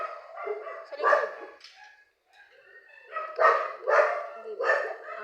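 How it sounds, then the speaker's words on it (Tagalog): Several dogs bark in short bursts, some yips mixed in, with a pause between volleys; moderately close, people talking around them. "Ang ingay na sa akin, ang ingay ng mga aso."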